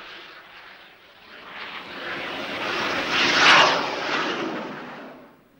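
A Blackburn Buccaneer jet accelerating off a steam catapult on an aircraft carrier gives a loud, broad roar that swells to a peak midway and then fades, with no voices.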